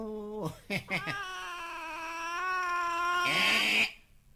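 A cat meows loudly and close by, starting with a few short choppy calls and then a long, drawn-out wailing meow that swells before cutting off.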